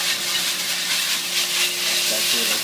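A steady, bright hiss of glass noodles stir-frying in a hot pan fills the clip, with a faint low hum underneath.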